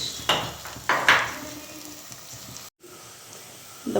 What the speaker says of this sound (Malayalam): നല്ല തിളച്ച വെള്ളമാണ് ഞാൻ ഒഴിച്ച കണ്ടോ